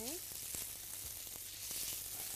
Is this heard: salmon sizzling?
yes